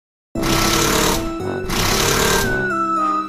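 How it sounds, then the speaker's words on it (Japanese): Whirring, grinding drilling construction noise in an Anpanman cartoon, as tiny workers dig inside a mouth at night: two long, loud, continuous bursts with a brief dip between them, then a rising whine at the end. "二人はギュイーンギュイーンという音で目が覚め"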